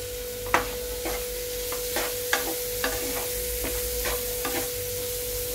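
Cashews, peanuts and raisins being stirred into a simmering papaya curry, a spoon scraping the pan in a regular rhythm of soft strokes over a low steady sizzle, close by and without talk.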